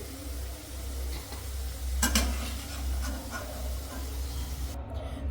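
Potatoes fry in hot oil with a steady background sizzle, while a utensil stirs and clinks against the pan in a brief burst near the middle, close and moderately loud.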